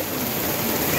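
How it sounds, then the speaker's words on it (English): Heavy rain pours steadily and loudly, a dense unbroken hiss close by with no pauses for its full length. "Today, it's rain heavily."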